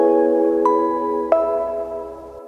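Soft sustained keyboard chord opening a lo-fi hip hop progression, with a couple of light bell-like notes added on top as the chord slowly fades, no voices.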